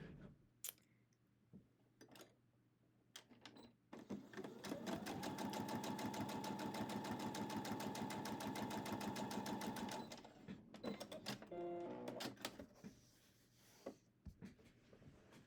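A sewing machine stitches pieces for a scrappy quilt block with a fast, steady mechanical chatter lasting several seconds. Softer handling taps and fabric rustles come before and after it.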